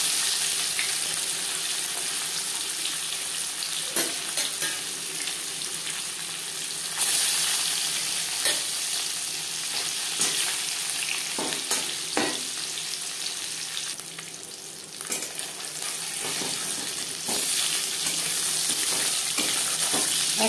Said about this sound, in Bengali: মাছ ভাজবার জন্য পরিমাণ মতো রিফাইন্ড অয়েল গরম করে নিয়েছি।